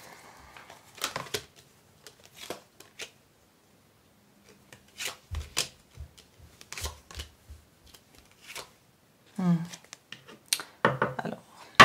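Tarot cards are cut and shuffled by hand in brief, crisp bursts of riffling and slapping, spaced out by pauses, with a voice speaking quietly between them.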